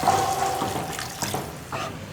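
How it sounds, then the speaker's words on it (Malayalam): Half a cup of water poured into a pan of sautéed tomato and onion for a lentil and green gram curry, a steady rushing splash that runs the full two seconds with a few brief surges. "1/2 കപ്പ് വെള്ളം ചേർക്കുക"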